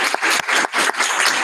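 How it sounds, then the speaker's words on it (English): An audience applauds a panel at the close of a conference session on human genome editing, a dense, loud burst of many hands clapping in uneven waves. "let's give a big applause to this great panel that was here today"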